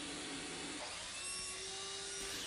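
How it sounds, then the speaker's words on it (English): Miter saw trimming small wood pieces for a floating shelf, a high whining motor that shifts pitch as the blade cuts, close and loud, with no speech. "Then I take each of these 3 pieces over to the miter saw and trim them down to"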